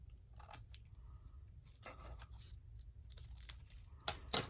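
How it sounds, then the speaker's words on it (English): Scissors snipping frayed fabric edges on a small craft project, a series of soft, close, irregular cuts with quiet pauses between them. "And we're going to trim off the frayed edges."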